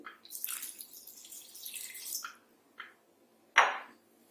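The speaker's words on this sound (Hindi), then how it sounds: "अब मैं उसमें थोड़ा सा पानी डालूंगी।" A little water poured into a pot of Hyderabadi mutton dum biryani: a close splashing pour, then a few soft drips and one sharper splash at the end.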